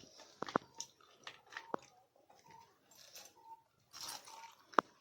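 Close, quiet chewing and crunching of fried bitter gourd leaf fritters, kalara patra bara, with irregular bites, a few sharp crunchy peaks and soft mouth sounds, and no speech.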